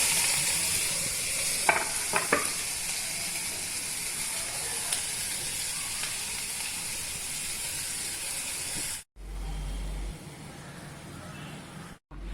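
Onion frying in oil with turmeric and curry leaves, a loud, steady hissing sizzle with a few brief scrapes early on, broken by two short drops to silence near the end.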